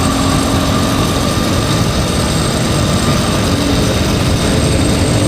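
Loud, steady engine drone with a constant high-pitched whine from a small Tao Tao motorcycle, heard while riding it at even speed.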